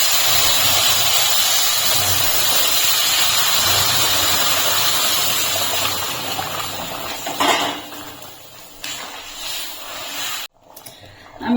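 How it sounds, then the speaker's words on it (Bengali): Hot water poured into a pot of fried rice sets off a loud, broad hiss and rush that gradually fades, ending in a few clatters of the pot and a brief cut. "এখন আমি যে জল গরম করতে বসেছিলাম গরম জলটা ঢেলে দিচ্ছি"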